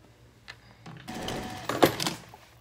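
A sewing machine stitches a fabric face mask, back tacking over the seam where the elastic pulls: a short mechanical whirring run, close and moderately loud, preceded by a couple of faint clicks.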